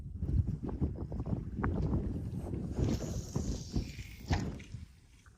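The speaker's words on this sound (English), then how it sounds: "It's a little windy, but you can still fish." Steady outdoor wind rumbles and buffets the microphone while fishing for surubí, with low gusting noise and some faint knocking underneath.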